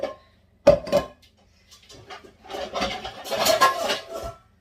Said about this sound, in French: Je prends ma poêle. Elle est où ma poêle?